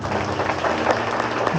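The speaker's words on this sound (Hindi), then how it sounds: "अब तालियां यीशु के लिए बजाएं" A revival meeting congregation in a marriage hall claps for Jesus, a brief burst of dense, steady applause from many hands indoors, fairly loud and continuous.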